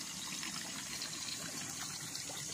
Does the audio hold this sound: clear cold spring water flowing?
yes